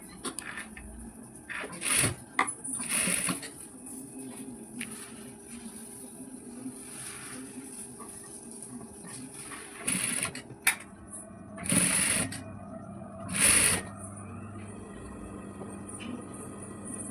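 A sewing machine stitching an anarkali churidar made from an old saree, quiet whirring under a woman's speech, with several short louder runs of stitching near the end.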